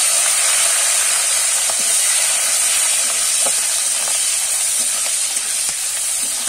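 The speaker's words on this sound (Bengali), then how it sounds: "এবারে আমি এখানে টমেটো আর কাঁচা লঙ্কা চিড়ে রেখেছি, সেটা দিয়ে দেবো।" Tomato and green chili added to hot oil tempered with five-spice, producing a loud, steady hiss and sizzle that fills the whole stretch close to the pan, with faint intermittent utensil taps and no talking.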